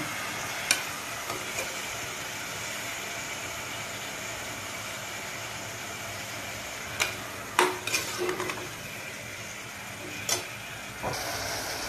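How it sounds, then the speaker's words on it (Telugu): Sliced onions, salted, fry in a pan as the base for a mutton masala curry: a soft, continuous sizzle with occasional sharp spatula scrapes and clinks against the metal. "ఉల్లిపాయలు బాగా వేగాలి."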